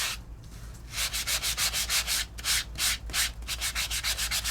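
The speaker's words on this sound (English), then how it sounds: "let's do a little bit of sanding" Rhythmic sanding strokes across red embossed card stock, a series of close, dry scratchy rasps in quick bursts with short pauses between them, and no voices.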